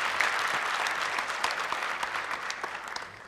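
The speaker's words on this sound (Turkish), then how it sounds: "Alkışlarla uğurluyoruz kendisini." Clapping from a studio audience on the Popstar television show, a dense and continuous burst that holds for about three seconds and then eases slightly. No voices cut through.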